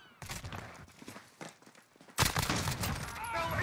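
Video game gunfire in an online shooter match: scattered sharp shots at first, then a denser, louder burst of rapid fire near the end.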